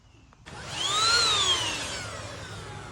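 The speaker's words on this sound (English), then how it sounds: "let's do a quick vacuum clean here and see if I can touch up some of this." A rechargeable cordless Dirt Devil vacuum switches on abruptly and runs close by over a model railway layout, its whine rising in pitch and then settling into a steady, even roar.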